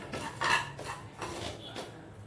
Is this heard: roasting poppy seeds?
yes